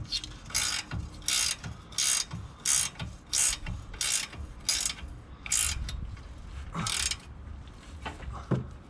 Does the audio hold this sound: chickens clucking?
no